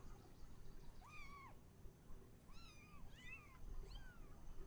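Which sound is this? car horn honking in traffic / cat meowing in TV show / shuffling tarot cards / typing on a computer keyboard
cat meowing in TV show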